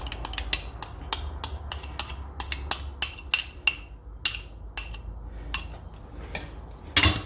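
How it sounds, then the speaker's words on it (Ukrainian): Burger sauce with mustard being stirred thoroughly in a bowl, a quick series of sharp utensil clinks and scrapes against the dish, loud and close, no talking. "Все це ретельно перемішуємо."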